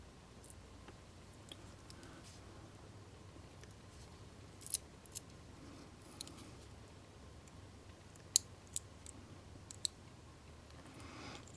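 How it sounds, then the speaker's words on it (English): Scissors snip heat shrink tubing in a quiet room, giving a handful of sharp, faint clicks spread irregularly over the stretch with no talking. "And finish trimming this heat shrink up."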